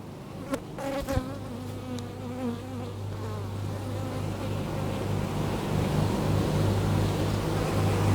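Steady, dense buzzing of many honeybees at an open hive, with drones among them, close by, growing slightly louder and fuller over time, with a few individual bees passing near at the start.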